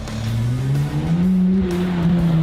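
A GT4 race car engine at Phillip Island drones steadily and loudly from inside the car, its pitch rising slowly as it pulls away at low speed, with no talking over it.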